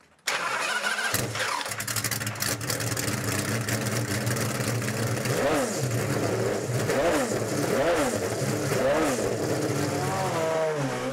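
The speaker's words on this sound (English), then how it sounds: "My voice simply can't compete with the sound of a completely unsilenced Mercedes V12." Pagani Zonda R with an unsilenced Mercedes V12, heard from inside the car as it starts up and pulls away, a loud continuous engine roar with rising and falling revs throughout, and a voice faintly under it.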